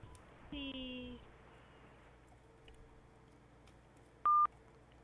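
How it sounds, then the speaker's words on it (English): An auto-dialer places a call, with a short burst of telephone dialing tones and a single sharp beep, faint and isolated over quiet line hiss. "it's now going to dial using a different caller ID"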